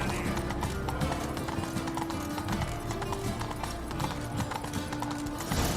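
Roach, the horse in The Witcher 3, gallops with fast, close, rhythmic hoofbeats that run steadily under background music.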